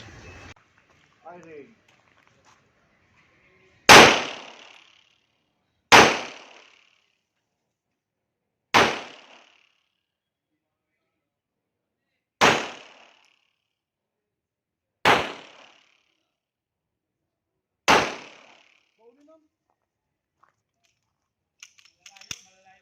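Six sharp, loud pistol shots from 1911 and STK 100 handguns, spaced a couple of seconds apart, each with a short echoing decay, with faint voices and small handling noises before and after.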